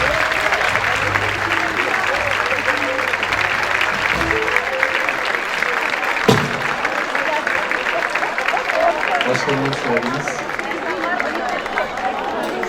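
Concert audience applauding as the choir takes its place on stage, a long even stretch of dense clapping filling the hall, with some voices and a brief thump partway through.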